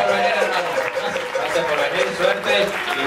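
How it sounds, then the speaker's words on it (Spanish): A live podcast audience in Panama gives a sustained round of clapping and cheering for guest Rómulo Roux, with a voice speaking over it throughout. "un aplauso para Rómulo"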